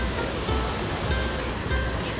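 Spray from a waterfall on Hawaii Island near Hilo, heard as a steady, loud, broadband roar of crashing water with some wind buffeting on the microphone and no clear talking.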